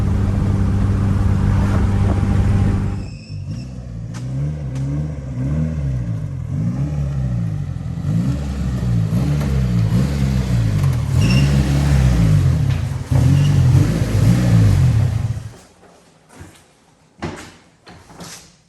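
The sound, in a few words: Yugo car engine revving during a burnout attempt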